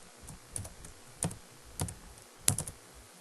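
Keys on a computer keyboard tapped in short bursts while a name is entered, about four clustered clicks spread over a few seconds, close and fairly quiet against faint room hiss.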